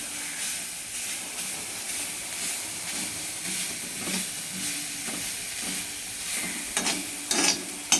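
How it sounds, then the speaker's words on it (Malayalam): Carrot thoran being stirred in a pan, a spoon scraping and clinking through the vegetables over a steady background sizzle, with a few louder knocks toward the end. "അപ്പോൾ നന്നായിട്ടൊന്ന് ഇളക്കി കൊടുക്കണം"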